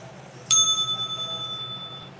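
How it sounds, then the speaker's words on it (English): A small bell-like sound bowl struck once, giving a bright clear ring that rises suddenly and then decays slowly with a sustained shimmering tone, heard close and alone. "They're just like little bells"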